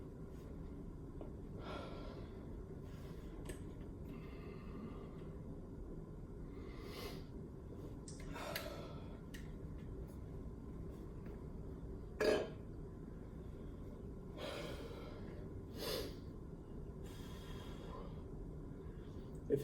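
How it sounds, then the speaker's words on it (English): Heavy, labored breaths after endurance exercise repeat at irregular intervals, with loud exhales and an occasional gasp, close to the mic over quiet background noise. "you're going to hear my breathing through your screen too much"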